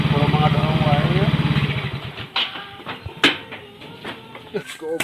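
Motorcycle engine idling, a steady close rhythmic putter for about two seconds that then fades, followed by clicks and knocks while a voice talks.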